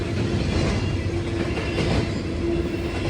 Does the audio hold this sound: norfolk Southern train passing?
yes